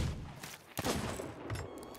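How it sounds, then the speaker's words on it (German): Pistol shots in the pirate video game Sea of Thieves: a sharp, loud crack about midway through, with a fainter report later, over a dense rumble of game noise. "Ja, ich habe jetzt meine Pistölchen einfach genommen."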